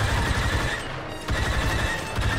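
Rapid bursts of pistol gunfire in Star Wars Battlefront 2, dense crackling shots in quick succession with a brief pause midway, no talking.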